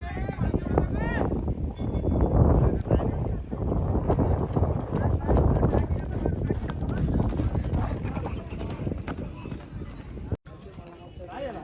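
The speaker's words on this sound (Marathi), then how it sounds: "घोडा राईड केली आम्ही, खूप मजा आली घोडा राईड करताना" Hooves clip-clopping at a brisk rhythm during a horse ride, fairly close, with people talking over the steady footfalls throughout.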